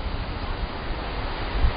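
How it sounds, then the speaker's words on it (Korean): Guryong Falls, the largest waterfall at Geumgangsan, makes a steady, dense roar of falling water, loud and unbroken, with no voices. "금강산에 있는 폭포 중 가장 큰 규모로 유명한 구룡폭포"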